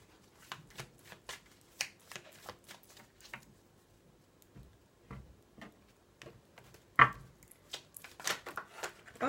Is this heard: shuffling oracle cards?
yes